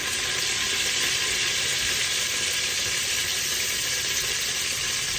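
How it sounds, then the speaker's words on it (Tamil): Curry leaves frying in hot oil, a loud dense hiss of sizzling that stays steady and close for the whole stretch, bright crackle spread across the highs. "கருவேப்பிலை போட்டுக்கொள்கிறேன்"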